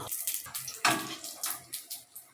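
Pumpkin flower fritters frying in hot oil give a steady crackling sizzle with bursts of louder spatter, close by and alone, no voices.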